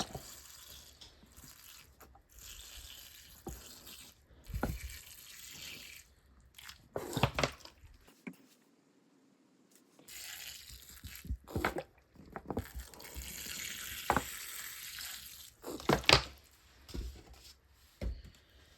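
Water poured over a bare root strawberry plant set in garden soil, trickling and splashing in uneven bursts with a quiet pause midway, close by and with no talking.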